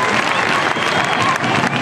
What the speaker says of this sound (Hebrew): תעשו להם כפיים